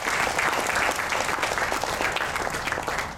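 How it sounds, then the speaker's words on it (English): A large audience at a rural mothers' event in Malaysia applauds steadily, a dense, even wash of clapping that holds at full strength throughout with no talk over it. "Please join me to give them a big round of bigger applause."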